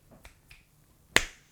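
A single sharp finger snap rings out near the mic in a room, after a few faint taps and rustles, briefly ringing off afterward.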